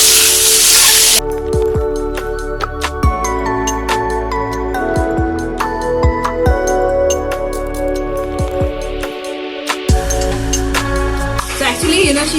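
Pumpkin tipped into a pan of golden frying onions for the Manipuri dish eromba, a steady loud sizzle with scraping and stirring clatter throughout, briefly dipping before resuming.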